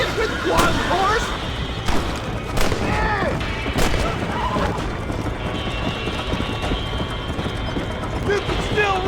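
Horses gallop in Red Dead Redemption with rapid, continuous hoofbeats and rumbling motion, mixed with bursts of gunfire, booms and shouting voices.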